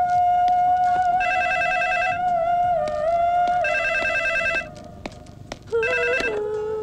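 A telephone bell rings in repeated bursts, three loud trilling rings separated by pauses, close and clear over a steady tone in an indoor movie scene.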